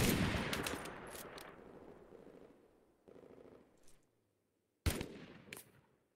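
Vickers K machine gun bursts in the war game Mud and Blood, a dense rattling volley that tapers off, then a short quieter burst, silence, and a final sharp loud burst.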